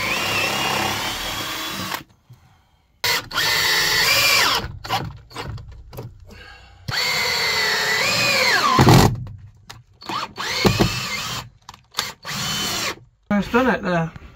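Power drill boring holes into a wooden bulkhead inside a Peugeot Boxer campervan conversion, with repeated close whining bursts separated by pauses, and brief talk between runs.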